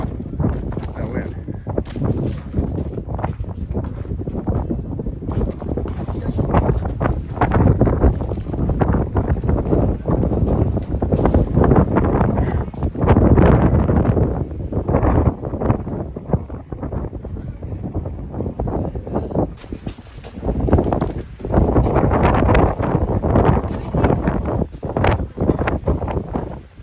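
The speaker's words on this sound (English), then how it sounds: "Wow, that wind." Strong wind roars through a desert canyon in the Guadalupe Mountains, buffeting loudly and continuously in gusts, with people talking over it at times.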